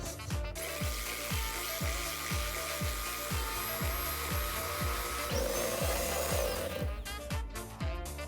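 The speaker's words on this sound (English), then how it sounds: "The first step is to whisk the egg whites until it is able to form a peak." Egg whites whisked for meringues, a steady rapid mechanical rhythm of strokes repeating evenly, loud and close, with a brief change in texture near the end.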